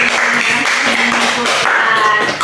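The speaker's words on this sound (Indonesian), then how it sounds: "Oke, tepuk tangan dong buat Mbak Bening." A small group in a school counseling session applauds together, a dense, steady burst of claps lasting a couple of seconds with little talking over it.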